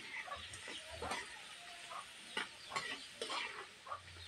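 Sautéed onion and garlic sizzle softly in a pan while a utensil stirs them in short, irregular scrapes close by.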